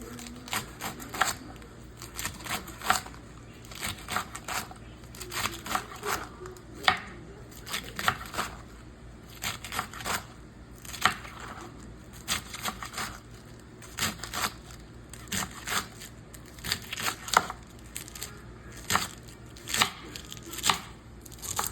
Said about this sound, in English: We got our washed lettuce, and I'm just gonna chop it.